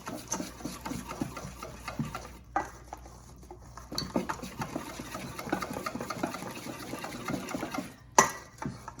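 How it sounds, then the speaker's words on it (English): A whisk beats a mixture together in a bowl, making a steady run of quick, rhythmic metallic clinks and scrapes against the sides. It is close and continuous, with brief pauses and no talking. "I'm going to use my whisk because that's going to be a whole lot easier to bring that together."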